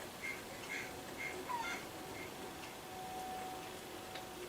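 A chicken in the video game Assassin's Creed Liberation gives a string of soft, repeated clucks over a low, steady game ambience, faint and evenly spaced.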